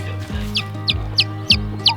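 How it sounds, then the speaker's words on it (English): Five short, high chirps from a chick ring out at a steady pace, close by, over a low background hum. "Oh, it's a baby chick"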